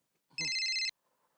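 A telephone rings once in a short electronic burst, bright and steady, cutting off abruptly with quiet afterward, preceded by a brief faint voice.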